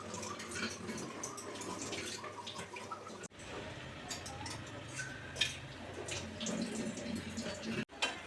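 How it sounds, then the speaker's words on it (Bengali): Chhana muitha, cottage cheese dumplings, simmering in gravy inside a covered wok, giving a steady close bubbling hiss with small pops and no voices. "ঢাকা দিয়ে ফুটতে দেব।"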